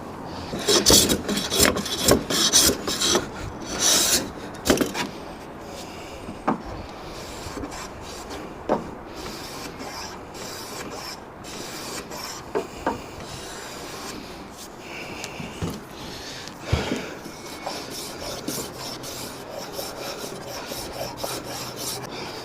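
Rhythmic rasping strokes of a freshly sharpened hand plane shaving a wooden workbench top, louder bursts early on, then slower, quieter passes with pauses between them.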